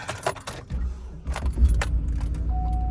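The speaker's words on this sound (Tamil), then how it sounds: "மறுபடியும் நான் வண்டியை ஸ்டார்ட் பண்ணுறேன்" Keys jangle and rattle near the ignition in separate bursts as a car engine starts, and a low, steady idling rumble then continues beneath further key clinks.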